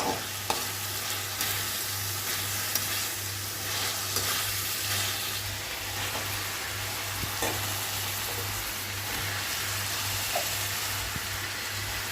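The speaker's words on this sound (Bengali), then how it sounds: "আদা রসুনের পেস্ট দিয়ে একটু নাড়াচাড়া করবো, ভাজা মশলাটাকে একটুখানি ভাজা ভাজা মতো করবো" Constant loud sizzling of spices and ginger-garlic paste frying in a hot pan, with occasional clicks and scrapes of stirring over a low electrical hum.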